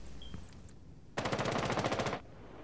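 Assault rifle fire in a tactical hostage-mode video game, one sustained automatic burst of about a second, rapid and evenly spaced, loud and close, with no talk over it.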